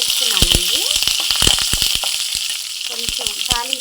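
Mustard seeds, cumin and curry leaves sizzling and crackling in hot oil for a tempering for coconut chutney, with sharp popping bursts over a steady hiss, close and fairly loud.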